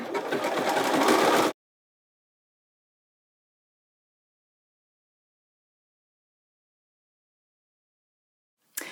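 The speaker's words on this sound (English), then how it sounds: "So I've zigzagged all the way around the top of the waist." Sewing machine zigzag-stitching around the top of a pants waist, a steady close whirring run for about a second and a half, then silence until a brief restart at the very end.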